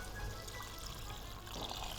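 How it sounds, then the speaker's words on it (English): Water poured into a pot of mulligatawny soup stewing on a kitchen stove, a soft, steady pouring rush, close and continuous, with no talk. "So I'm now going to add my water."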